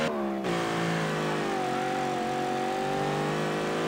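A car engine in the street-racing game CarX Street revs with a steady, loud, sustained drone, its pitch climbing gradually after a brief shift at the start, with no voices over it.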